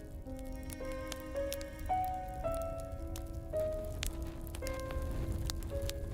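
Rain falls in a steady, soft patter around a medieval-style shelter, with sustained tonal notes layered over it throughout.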